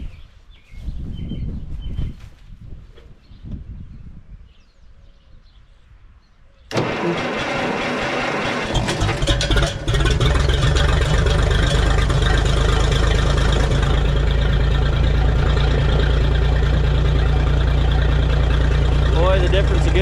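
After voices and quiet background sounds, a G707 engine, freshly fitted with a John Deere battery, cranks briefly and fires, then settles into a loud, steady, close running rumble that fills the rest of the clip.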